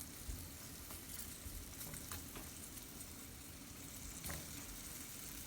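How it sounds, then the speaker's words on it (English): Onions frying in a flour and oil gravy for cube steak, a steady dense sizzle with soft crackling throughout, close and even, no voices. "go ahead and put my onions in here. Let these onions cook."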